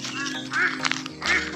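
A duck quacks a few times close by, the calls short and nasal, with a voice in the background.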